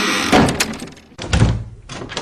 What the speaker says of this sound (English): The Doctor opens the door slowly